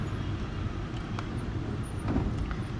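Road traffic on a long road trip from Tamil Nadu to Rajasthan, a steady low rumble of engines and passing vehicles heard from inside, with a faint brake hiss.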